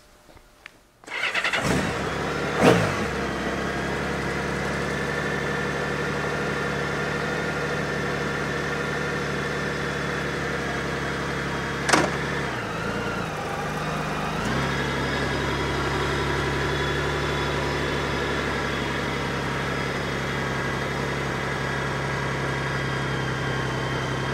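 A motorcycle engine starts with a sharp crank, then idles in a steady close drone, revving briefly before settling back to a constant hum.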